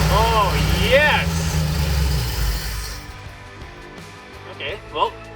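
A 1964 Ford Galaxie 500 with a newly fitted carburetor cranks and fires, its engine rumbling loudly for a few seconds before settling. Chirping squeals sound over it, and the rumble drops away to quieter background noise.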